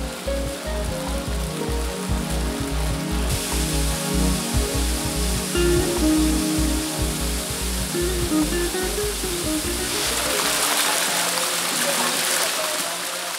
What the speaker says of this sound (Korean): 작은 폭포들이 이어지더니 높은 폭포가 가로막는다